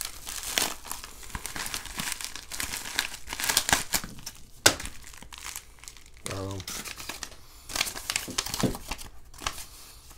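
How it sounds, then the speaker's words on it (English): A plastic mailing bag holding a LEGO purchase is cut open and handled, giving close, repeated crinkling and rustling of plastic with a brief snip of scissors, while a person talks over it. "I'm going to cut carefully on the edge so I don't accidentally cut through what's in here."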